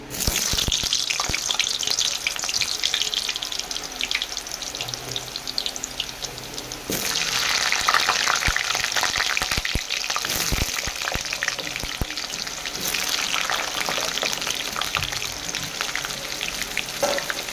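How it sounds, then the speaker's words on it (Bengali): Potatoes frying in hot oil in a wok for a mutton dish, a loud continuous close sizzle with surges as they are stirred and occasional scraping, no talking. "আলুগুলো লাল লাল করে ভেজে নেব।"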